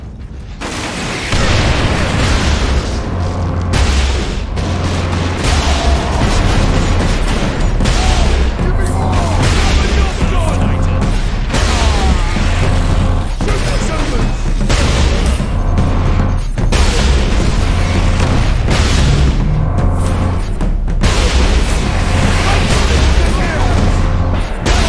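Rocket launcher blasts and heavy booms from Warhammer 40k Space Marine fill a loud, sustained battle, with repeated explosions and gunfire layered under voices talking throughout.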